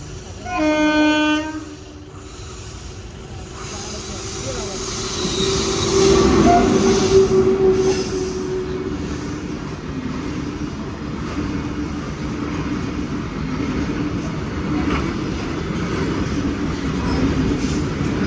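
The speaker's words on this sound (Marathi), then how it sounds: "मालगाडी आहे बघा" A train horn blares briefly, then a long freight train rumbles past close by with clattering wheels and squealing metal, continuous and loud.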